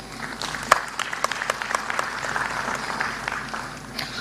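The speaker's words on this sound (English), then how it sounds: "I want to ask all the workers in this house to clap for the team from NSSF" Workers at a Ugandan NSSF annual members' meeting clap in a hall, a steady burst of applause from a sizeable indoor crowd with a few sharper individual claps standing out, continuing for several seconds.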